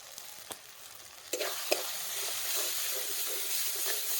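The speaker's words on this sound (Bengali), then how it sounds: "সামান্য চিনি দিয়ে এটাকে ভালো করে কষাবো" Turmeric and chili powder with a little sugar sautéing in a pan, a few scattered clicks then a loud steady sizzle and hiss that swells after a sharp stir.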